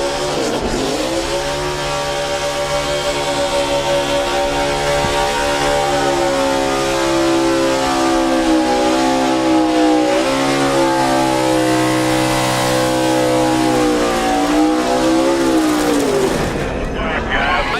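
A NASCAR Cup Series car does a burnout at the start-finish line. Its engine holds a loud, sustained, high-revving roar with wavering pitch and tire hiss for most of the clip, then cuts off near the end while commentators talk over it.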